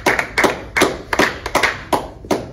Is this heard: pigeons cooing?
no